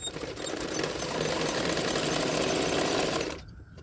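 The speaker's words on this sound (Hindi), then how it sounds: "किनारे किनारे पे सिलाई डालना है।" A sewing machine stitches a lined double katori blouse, running in a steady, continuous whir for about three seconds before it stops abruptly.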